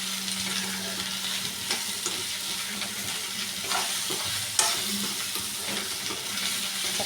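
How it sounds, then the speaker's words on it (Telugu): Soya chunks (meal maker) for a biryani are stirred in a pan, making a steady frying hiss with soft scraping and a single sharp clink partway through. "మిల్ మేకర్ వేసుకో, ఇలా చక్కగా కలుపుకో"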